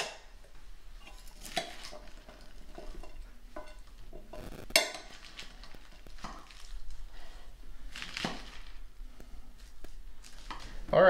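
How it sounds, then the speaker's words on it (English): Kidney beans, olives and cheese for taco salad being mixed in a bowl with a utensil, scattered scraping, clinks and wet tossing sounds at irregular intervals, close and moderately quiet, with no speech. "I'm going to mix this in really well"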